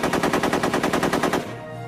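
A Tommy gun fires a single rapid burst at about 800 rounds per minute, with around fourteen sharp, evenly spaced shots close by, then stops abruptly and leaves a ringing tail.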